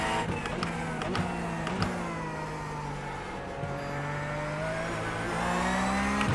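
A race car engine revs in a sim racing game, a steady, loud drone whose pitch climbs and dips through throttle changes and shifts, with small clicks on top.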